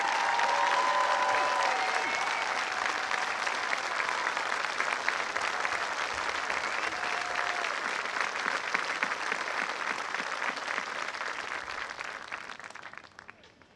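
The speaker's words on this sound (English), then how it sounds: "Please give them a round of applause" A graduation audience at a high school ceremony claps in a long, dense round of applause, steady and loud, with a few faint tones at the start, before tapering off toward the end.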